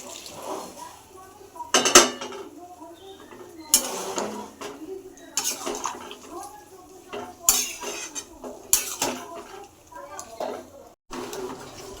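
Boiled chickpeas added to a pan of cooked-down spices for kabuli chana, with several loud clanks and scrapes of a spoon against the metal pan between quieter stirring, and a voice speaking at times.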